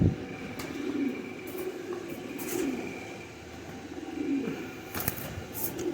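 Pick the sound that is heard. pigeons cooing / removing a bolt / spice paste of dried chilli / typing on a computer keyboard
pigeons cooing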